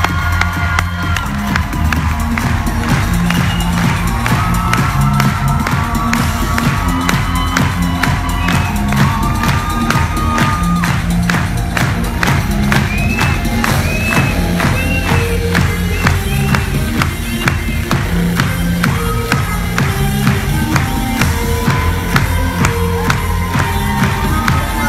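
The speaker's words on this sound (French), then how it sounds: "Je vous demande de l'applaudir, de l'accueillir avec beaucoup d'enthousiasme." Loud, lively crowd at a network marketing event cheering, whooping and clapping in rhythmic bursts to welcome a speaker, with music or chanting underneath and energetic shouts throughout.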